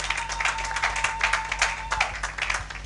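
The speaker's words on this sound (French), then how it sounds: "Acclamez pour la gloire de notre Dieu" A church congregation claps and applauds for God during a service, dense steady clapping close by, lasting a few seconds.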